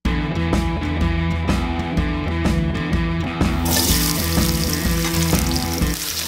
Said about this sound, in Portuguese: tô com a frigideira quente aqui, vou colocar azeite, vou jogar o alho e aí vou dar aquela dourada